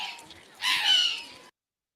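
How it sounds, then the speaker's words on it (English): A short, bright seagull squawk from a phonics app game rises out of a soft background for about a second, then cuts off into silence. "You heard? A seagull."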